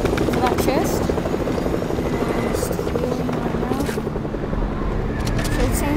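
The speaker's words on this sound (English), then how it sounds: "So it seems someone looks like they've already grabbed the helicopter." A helicopter in a video game thrums with a steady rotor chop at fairly close range, loud and continuous, while a player talks over it.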